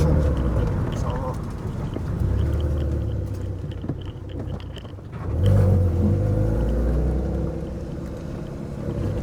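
A Peugeot 206 fitted with a VR6 engine runs with a deep, steady rumble that dips in the middle and then swells louder as revs rise, while someone talks over it.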